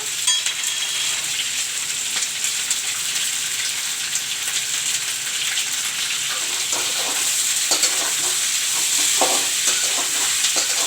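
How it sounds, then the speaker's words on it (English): Kundru pieces frying in a pan with salt and turmeric, a steady close sizzle throughout with occasional stirring scrapes and no voices. "I will cover it up and let the kundru fry nicely."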